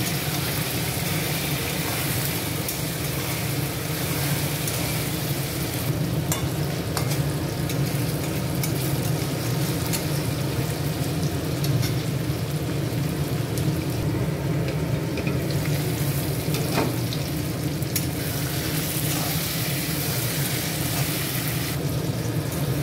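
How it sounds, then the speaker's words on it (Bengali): Chicken pieces frying in a pan for a chicken kasha, a dense continuous sizzle with occasional stirring scrapes, steady and fairly loud throughout with no talking. "আমার মাংসগুলি ভাজা হচ্ছে"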